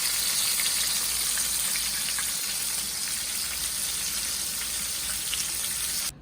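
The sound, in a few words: sesame chicken frying in oil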